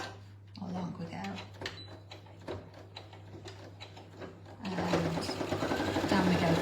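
Sewing machine stitching a carry bag seam: short bursts of rapid mechanical ticking interrupted by pauses and talk, then a louder, sustained run of fast stitching near the end.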